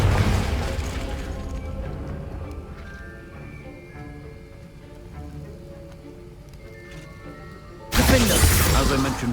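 A Confringo blasting-spell explosion in the Hogwarts Legacy video game lands as a sudden loud burst near the end, after a stretch of quiet, low game ambience with soft tonal sounds.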